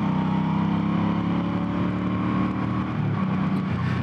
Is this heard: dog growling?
no